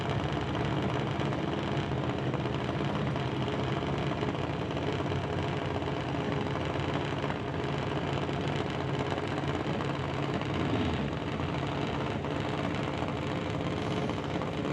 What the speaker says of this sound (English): going against Hunter Gallant in his BDL Auto Super Steve's Tire Diversified Rocket Coatings 2016 Junior Dragster